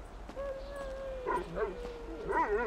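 Chop the dog in Grand Theft Auto V gives short yips and whimpering bow-wows, several close barks in quick bursts, mostly toward the end, while someone shouts at him.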